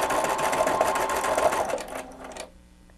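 An embroidery machine sews an overlapping oval fill stitch in thread for a beach bag, a close, fast, even whirring chatter that slows and winds down to a stop near the end.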